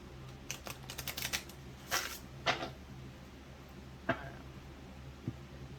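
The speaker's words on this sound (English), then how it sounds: "I'm gonna do like one more shuffle and cut the deck" Soft, quick riffling and light card snaps in short bursts, followed by a few isolated taps, fairly quiet against a low hum.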